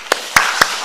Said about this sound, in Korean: 우리 어르신들에 대해서 감사하는 마음으로 우리 한번 박수했으면 좋겠습니다.